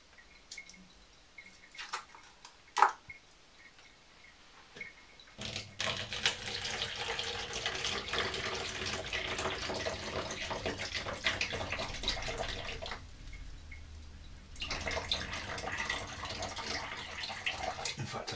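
Apple juice poured for mead making, a steady splashing, trickling stream starting after a few quiet seconds with a clunk, briefly pausing, then resuming, close and moderately loud.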